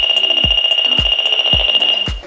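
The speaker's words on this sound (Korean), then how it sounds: "의심되는 부분에서는 분명히 자, 비폼이 최대치로 하이 쪽으로 가면서 소리가 계속 납니다" An SEB-003 PRO bug detector sounds its alarm near a suspected device, a loud continuous high beep pulsing with a regular rhythm of clicks about twice a second, heard alone.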